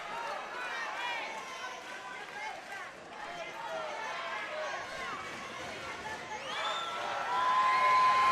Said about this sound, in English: You hear this Kalispell crowd getting behind Marnick Mann.